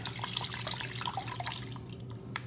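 Water trickles and drips into a small toy that spins when filled, a steady splashy pour with light droplet patter close by, easing off near the end.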